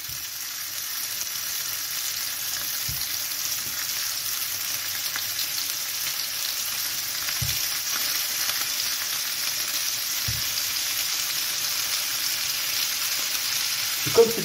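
Beef rolls frying in olive oil in a hot pan, a steady even sizzle throughout with a few soft low knocks and no talking.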